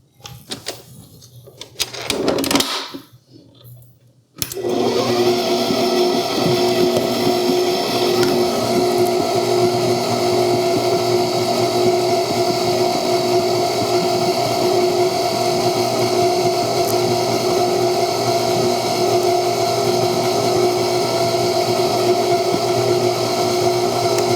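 Tilt-head Aumate stand mixer with an 8.45-quart bowl and 660-watt motor whips a fluffy mixture, a steady, loud motor hum with a whining drone that starts abruptly after a brief quiet bit and runs unchanged to the end.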